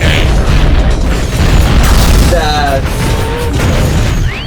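A minigun fires in the underwater video game AquaNox, a loud, dense and continuous roar of rapid shots lasting the whole stretch, with a voice talking over it.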